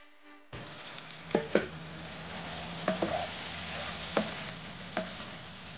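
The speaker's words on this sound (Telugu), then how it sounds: "ఈ టమాటా ముక్కల్ని బాగా మెత్తబడేంత వరకు వేగనివ్వండి." Chopped tomato pieces fry in hot oil with mutton in a home kitchen, a steady soft sizzle broken by several sharp scraping stirs of a spoon against the pan.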